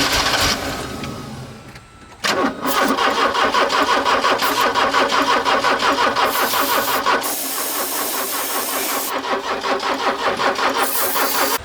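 A Porsche 924 Turbo engine cranks over on the starter in a long, loud, rhythmic churning run after a brief first attempt, without catching.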